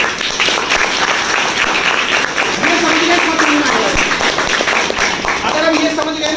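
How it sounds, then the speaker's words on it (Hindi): Audience at a business seminar gives steady applause, a dense wash of clapping, with voices heard faintly beneath it. "एक बार जोरदार ताली बजाओ"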